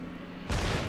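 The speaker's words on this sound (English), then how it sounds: "Must be he's missing a couple turrets because he's only got 1 gun firing at us." A single naval gun from an enemy destroyer fires in World of Warships, a sudden broad booming blast that erupts halfway through and rumbles on loudly.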